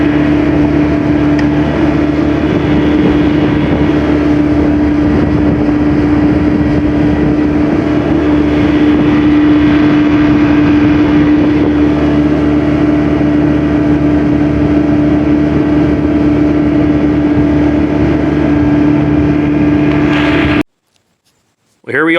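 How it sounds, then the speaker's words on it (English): A motor drives a restored 16-foot Smokercraft boat across shallow, flat water with a loud, steady droning hum and a constant low-pitched tone, running unbroken for about twenty seconds before cutting off abruptly. "I'm gonna go ahead and deploy my trolling motor"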